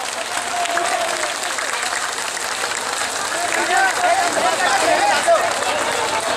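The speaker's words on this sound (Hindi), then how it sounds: "सभी लोग हाथ उठाकर ताली बजाएं" An audience at a Hindi-language public gathering claps steadily in dense, sustained applause that swells slightly toward the end.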